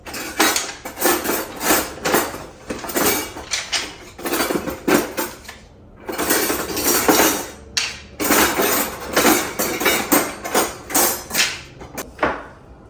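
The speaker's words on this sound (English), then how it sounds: "I want to separate all the wooden spoons." Wooden spoons and kitchen utensils clatter and knock together in bursts while being sorted by hand, a busy, close rattling with brief pauses and no talking.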